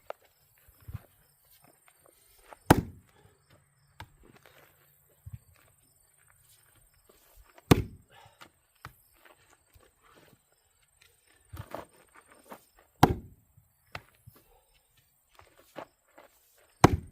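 Axe blows splitting elm logs, comparing a blunter-edged axe with a sharper one outdoors: sharp, loud thuds and cracks land every few seconds with quiet gaps between, plus scattered light knocks and rustles.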